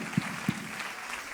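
A church congregation claps together, a dense, steady spatter of applause filling the short moment, with two soft low thumps near the start.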